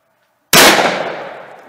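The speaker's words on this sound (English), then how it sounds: "shooting a cut shell. Cut shell 40 yards." A Remington 870 Express Magnum shotgun fires a single cut shell outdoors, a sudden loud close blast after near silence that trails off in a long reverberant decay.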